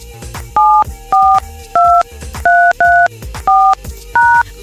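Seven DTMF keypad tones entering a conference call access code, steady two-note beeps evenly spaced about half a second apart, loud and close over a faint background.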